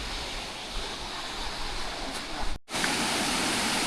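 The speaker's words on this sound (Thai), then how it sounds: "จุดนี้จะเป็นน้ำตก" A roughly two-metre waterfall roars in a steady, dense rush, close and loud throughout, with a brief dropout in the sound partway through and no talking.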